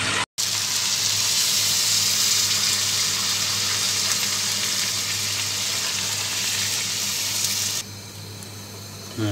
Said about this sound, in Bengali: এখন দিয়ে দেব সিদ্ধ হওয়ার জন্য পরিমাণ মতো পানি